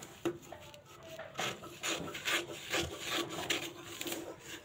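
Scissors cut through fabric for a Katori blouse in a close, quiet series of crisp snips and rustles, steady and rhythmic over a few seconds.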